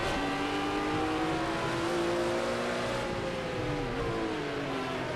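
Race-car engine from the Project CARS 2 game, a GTP prototype at Daytona, droning loud and continuous with harmonics that rise and dip as it shifts gears and accelerates, with no voice over it.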